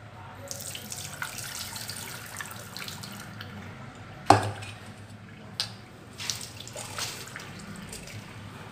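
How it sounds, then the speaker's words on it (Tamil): Water drains from soaked raw rice in a kitchen as a steady close trickle with scattered drips, and one sharp clatter comes about halfway through. "தண்ணியை சுத்தமாக வடிய வச்சுக்கலாம்"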